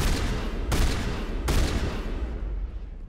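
Shotgun blasts in the Mass Effect video game: two sharp, loud booms about a second apart, each with a long rumbling decay, close and alone with no talking.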